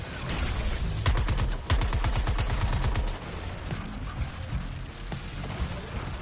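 Rapid bursts of heavy tank gunfire in the Suicide Squad: Kill the Justice League video game, several rattling volleys in the first half, then softer continuous battle noise.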